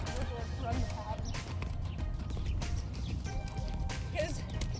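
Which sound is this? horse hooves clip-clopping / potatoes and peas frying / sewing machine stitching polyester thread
horse hooves clip-clopping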